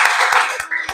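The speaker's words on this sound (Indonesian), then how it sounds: "tepuk tangan dulu semua" Audience applause in a classroom after a student group presentation, a brief close burst of dense clapping that thins out and stops within a second.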